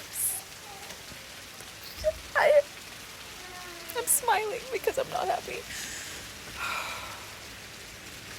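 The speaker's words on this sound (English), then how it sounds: "Oh my God, it's raining, really?" Faint, steady rain patters in the background while someone talks and sighs over it in a few scattered bursts.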